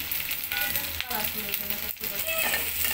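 Beef with chopped carrots sizzles loudly in a pan over high heat, a constant dense frying hiss with occasional stirring scrapes throughout.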